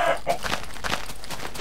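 A chicken in the Minecraft video game gives a few short, quick clucks at moderate loudness over a steady game background.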